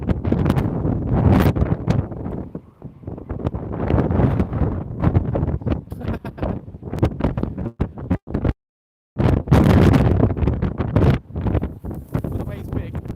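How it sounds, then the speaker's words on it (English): Strong gale-force wind from Storm Eunice buffets a microphone on the Blackpool seafront, producing loud rumbling gusts that cut out briefly midway while a person keeps talking. "Sorry about the sound."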